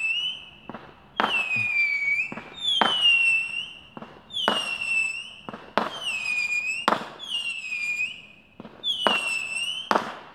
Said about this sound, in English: And pop the fireworks.